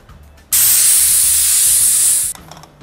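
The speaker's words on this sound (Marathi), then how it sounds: "त्यानंतर कुकरचं झाकण लावून आपल्याला भाताला 3 शिट्ट्या द्यायच्या आहेत" Steam bursts from a pressure cooker's whistle while rice cooks, one loud, steady hiss lasting nearly two seconds that starts and stops abruptly, close by with no talk.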